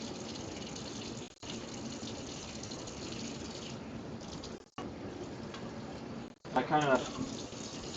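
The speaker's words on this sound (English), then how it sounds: "I run hot water from my tap along with it" Hot water runs from a kitchen tap during chili cooking, a steady rushing hiss broken by two brief pauses, with a person speaking briefly near the end.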